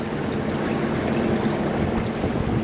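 A sailboat motors across the sea off the Mediterranean coast on a calm day, its engine a steady broadband drone mixed with wash of water and wind rush, continuous and fairly loud.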